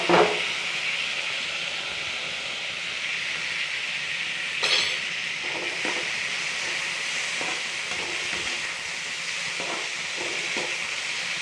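Tomatoes going into a cooked onion, ginger-garlic masala for lady's finger curry, sizzling steadily in the pan with occasional scraping stir strokes and one louder splash of added ingredients.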